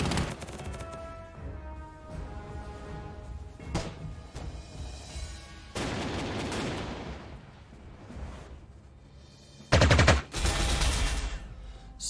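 Sustained gunfire rattles at a tank in the World War II strategy game Panzer Corps 2, with dense bursts running throughout and a sharp, louder volley near the end.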